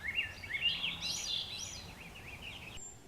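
Swainson's thrush singing in forest foliage, a faint rising series of fluting, spiraling phrases heard alone, with a soft background hush and no voices.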